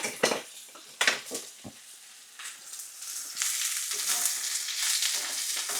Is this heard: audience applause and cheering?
no